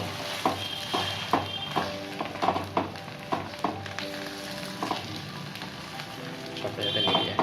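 Bread and egg fry in a pan for an egg sandwich, a soft steady sizzle broken by repeated scraping and stirring taps of a utensil against the pan, close up with no talk.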